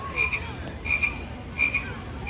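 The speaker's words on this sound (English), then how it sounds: "Sounds like a green frog who just loves living in his swamp." A green frog croaks in a swamp, three or four clear repeated calls spaced evenly apart, fairly close and alone with no talking.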